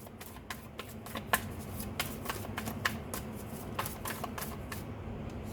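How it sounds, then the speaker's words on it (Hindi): Tarot cards being shuffled and handled close by, a steady run of crisp riffling flicks and soft slaps over about five seconds, with no talking. "देखो, मैं अभी यहाँ से भी कार्ड निकालती हूँ"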